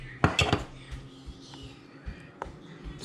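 Spoon scraping and clinking against a bowl while hung curd is stirred into green chutney, a burst of quick clatters followed by sparser taps and scrapes, close and fairly loud with no talking.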